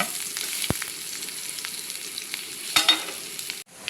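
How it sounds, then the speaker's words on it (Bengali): Chopped onions frying in hot oil give a steady, hissing sizzle throughout, with a couple of sharp clicks and a brief louder burst of spatter near the end. "পরিমাণ মতো তেলে আমি কিছু পেঁয়াজ কুচি দিয়ে দিলাম এটা বাদামি কালার করে ভেজে নিব"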